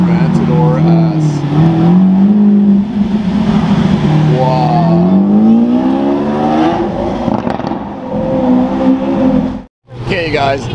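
A Novatec-tuned Lamborghini Aventador S supercar engine roars loudly and close, its pitch rising and falling through a sustained rev before cutting out briefly and returning, with voices talking over it.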